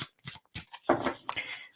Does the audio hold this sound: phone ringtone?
no